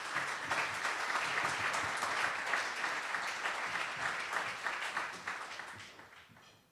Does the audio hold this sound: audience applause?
yes